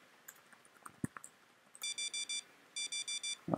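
A focus timer sounds two bursts of rapid electronic beeps, four or five pips each, that are clear and close, after a few faint keyboard clicks and taps.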